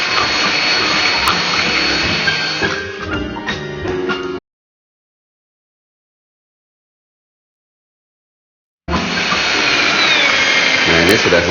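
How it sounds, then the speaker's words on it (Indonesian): Electric mixer beating egg batter for a marble cake until stiff, a steady close whirring drone running for about four seconds, cutting out into silence, then resuming; no talk heard over it. "Kita kocok lagi hingga benar-benar kaku."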